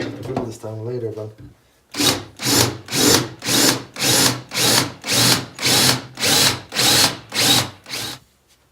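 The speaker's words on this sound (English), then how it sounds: "I will drill the small holes sideways" A drill bores small holes sideways into wood on a lathe project, about a dozen evenly spaced rising and falling bursts, loud and close, after a brief moment of speech.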